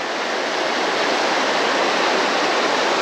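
A river on a new stream rushes steadily across the whole stretch, a loud, close, continuous broadband wash of flowing water with no voices over it.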